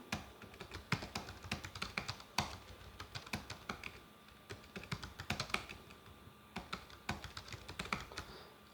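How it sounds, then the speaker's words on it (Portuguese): Continuous typing on a computer keyboard while entering an association's name into a form, a dense, irregular run of close, crisp key clicks with occasional louder taps and no speech. "Eu vou digitar o nome de uma associação."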